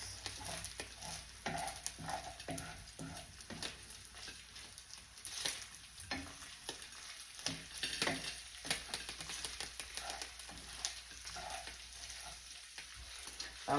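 Onions fry and sizzle steadily in a skillet, with intermittent stirring scrapes and soft crackles across the whole stretch, close and moderately quiet, with no talking.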